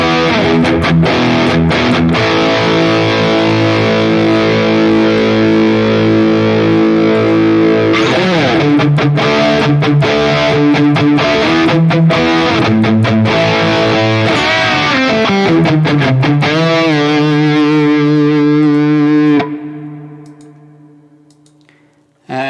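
An electric guitar plays loud, sustained distorted chords and palm-muted chugs through a high-gain amp model on a NUX MG30 with the gain turned down. Several strummed bursts end in a ringing chord that fades out.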